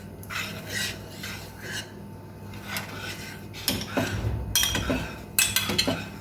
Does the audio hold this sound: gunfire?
no